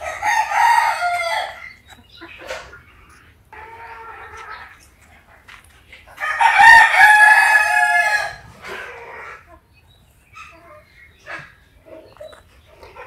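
Native hens and roosters on a small farm where hens are laying eggs cluck and crow in loud, close bursts, with a long crow in the middle and quieter clucks between.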